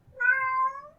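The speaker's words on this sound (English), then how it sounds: "the cat says hi." House cat letting out a single loud, drawn-out meow, clear and close with a rising then falling tone, alone in a quiet room.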